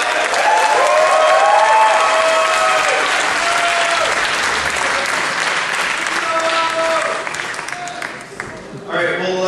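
Audience applause for a guest at a horror fan convention panel, a dense sustained clapping crowd filling the room, loud and steady, tapering off near the end with a few cheers and voices.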